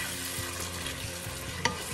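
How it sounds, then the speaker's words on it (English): Pepper steak sauce bubbling and sizzling in a frying pan while it is stirred, a dense continuous fry with soft spoon movements and one sharp clack near the end. "put your sauce in the pan. Give it a good stir"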